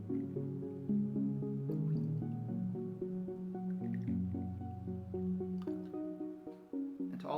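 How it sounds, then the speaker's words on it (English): A quarter cup of freshly brewed coffee is poured into a chocolate brownie mixture, giving soft, close dripping and wet squishing sounds over a steady tonal background. "we're also going to add to this mixture a 1/4 cup of coffee, which is 4 tablespoons, and this is freshly brewed coffee"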